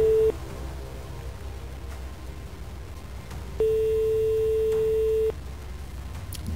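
A telephone ringback tone sounds on a call placed from a radio control room, a steady single-pitch ring lasting under two seconds, with the tail of a previous ring just at the start, over a low room hum.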